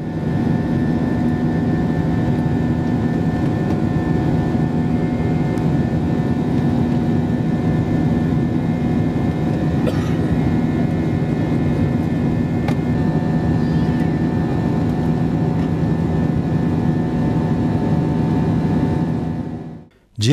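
Airbus A321 passenger jet carrying 220 passengers, flying from Kyrgyzstan toward Moscow: a loud, steady engine roar and rumble continues for about twenty seconds, then cuts off abruptly at the very end.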